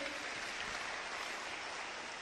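Audience applause from a seminar crowd, steady dense clapping filling the whole moment at a moderate distance, with no talk over it.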